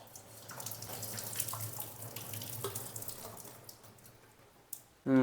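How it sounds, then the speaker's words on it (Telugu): Hot water drains from a pot of boiled potatoes into a sink in a home kitchen, a steady close pour lasting several seconds before ending in a sharp clank of the pot. "ఈ వేడి నీళ్ళు అయితే తీసేద్దాం దీంట్లోంచి"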